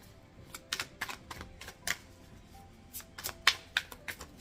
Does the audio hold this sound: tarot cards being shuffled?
yes